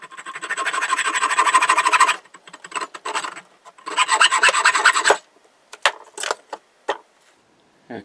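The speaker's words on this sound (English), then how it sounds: "saw it off about halfway" Hand-sawing through a piece of wood while shaping a spinning top: two long bursts of rapid rasping strokes, close and fairly loud, broken by short pauses and then a few scattered scrapes.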